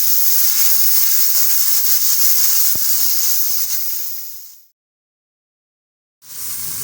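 Garlic-ginger paste with crushed tomatoes and green chillies frying in a pan for moong dal, giving a steady, loud hiss that runs unbroken for several seconds, then cuts to silence and resumes briefly.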